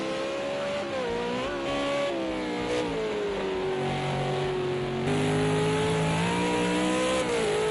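Onboard engine note of a V8 Supercar in a racing game at Fuji, a steady loud drone rising and falling through gear changes and revs with no talk over it.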